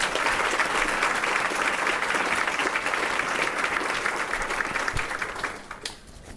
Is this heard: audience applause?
yes